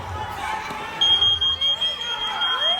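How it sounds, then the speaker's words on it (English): A fire alarm blares in pulsing, high-pitched beeps over a noisy wrestling-event crowd, with a voice talking underneath. "is that a fire alarm?"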